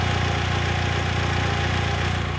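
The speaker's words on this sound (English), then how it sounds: "It sounds really good, and the exhaust is so quiet." A Mitsubishi Lancer Evolution idling while warming up, its exhaust very quiet: a steady, even low engine hum with a smooth, unchanging drone throughout, close by and with no talk.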